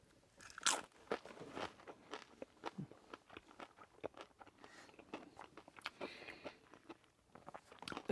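Close, crisp crunches and bites into Jack in the Box spicy tiny tacos with jalapeno bits, a run of sharp irregular crackling chews with no talk.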